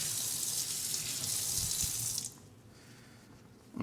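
Tap water runs steadily into a kitchen sink as something is rinsed, a loud, even hiss for about two seconds before it cuts off and leaves quiet room noise, with a faint knock at the end.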